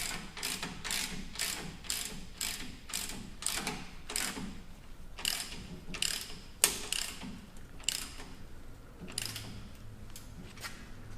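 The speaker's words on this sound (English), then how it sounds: "Snug the lower bolts with a 17mm socket and end wrench." Ratchet and wrench work on the lower shock bolts of a Toyota Tacoma during a 6-inch BDS coilover install, with a 17mm socket and end wrench: repeated bursts of clicking ratcheting strokes, close and fairly loud, with no talk.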